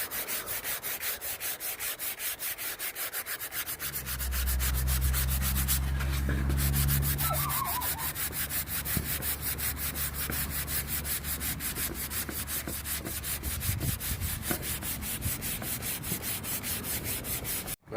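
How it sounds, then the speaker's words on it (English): Steady, continuous abrasive rubbing of 220-grit sandpaper scuffing wire-brushed, torch-burned wood, close and fairly loud throughout, with a few heavier strokes near the middle and no talking. "we're going to take our 220 sandpaper and we're going to give it a nice scuff."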